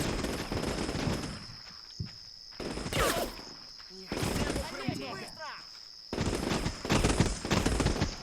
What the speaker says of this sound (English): And the machine gun over here gets him.